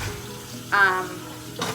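Water runs steadily from a kitchen or bathroom tap nearby, a soft continuous hiss with a brighter splash midway and another near the end.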